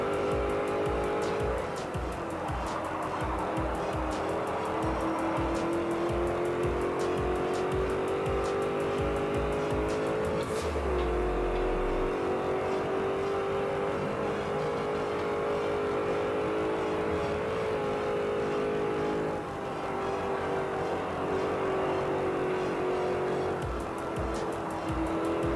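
An Alfa Romeo Montreal in the racing video game Forza Motorsport 4, its engine held high in the revs with a loud, sustained, wavering drone, tire squeal and brief gear-change dips throughout.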